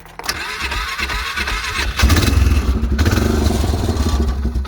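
An old tractor engine cranks and catches, then runs with a loud, rough, uneven idle while still cold, with a heavy low rumble and mechanical clatter that steadies into a continuous chug.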